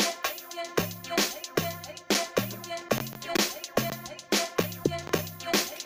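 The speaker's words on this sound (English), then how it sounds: "this is how my first log drum sounds like with the whole beat" An amapiano-style beat built in FL Studio Mobile, with a log drum playing over the full groove. Punchy pitched low hits repeat in a steady syncopated rhythm under dense percussion, loud and without talk.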